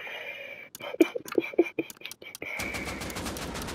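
Sharp gunshots from the survival video game Rust, a quick irregular burst of about five reports, fairly close, followed by a steady noisy wash of game ambience.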